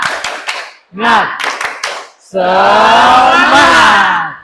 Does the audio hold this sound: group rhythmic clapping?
yes